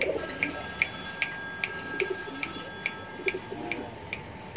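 Soft, low cooing of a male Australian fancy pigeon repeats against a steady outdoor hum, with a faint high chirp recurring at regular intervals.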